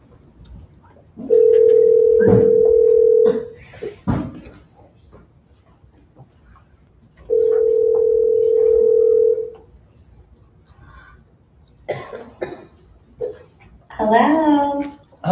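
A steady telephone dial tone sounds over a speakerphone during a school board meeting, holding for about two seconds, pausing, then returning for another two seconds, with a few brief speech fragments and dialing clicks around it.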